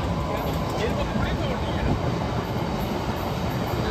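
A train on railway tracks near Shahganj Junction, a loud, continuous rumble with rolling wheel noise and faint high squeal, steady throughout as the train passes close by.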